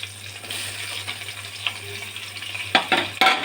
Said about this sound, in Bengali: আর একটু কড়া করে ভাজবো, ঘুরিয়ে ঘুরিয়ে আগের মতো।